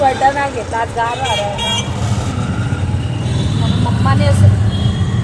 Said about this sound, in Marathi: हे बघा पुरं ट्रॅफिक आहे इकडे